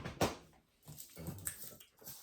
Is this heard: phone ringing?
no